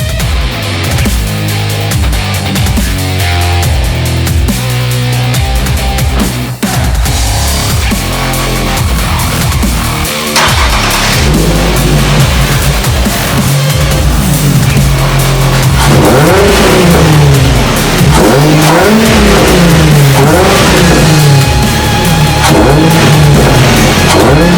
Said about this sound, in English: I didn't do an engine rev when I did the intake install, so I'm gonna do that for you guys right now.